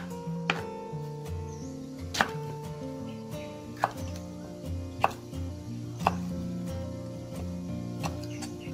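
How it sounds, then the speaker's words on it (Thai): Pickled mustard greens chopped into bite-size pieces on a board: sharp, evenly spaced knife thuds, about one per second, close and clear over soft background music. "ให้เราหั่นชิ้นพอดีคำค่ะ"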